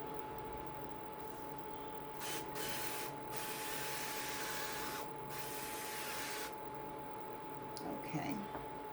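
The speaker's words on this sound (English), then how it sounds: "I'm going to use the grapeseed oil. Okay, so I'm going to be spraying my skillet." Grapeseed oil sprayed from a can into a skillet, a steady hissing spray broken by a few short pauses, close and fairly quiet over faint background hum.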